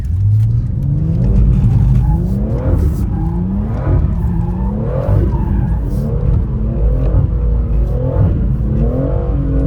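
A BMW M140i does donuts, its engine revving loudly and steadily while the tyres skid and scrub throughout, close and continuous with no talk.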